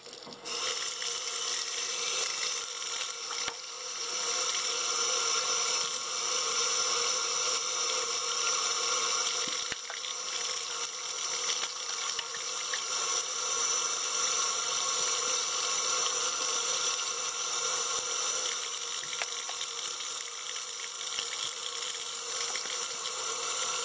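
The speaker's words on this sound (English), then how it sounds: "the last step here is just give them one final rinse, trying to keep these bristles as straight as possible" Paint brushes rinsed under a running tap, a steady, unbroken rush of water that continues throughout at close range with no voices.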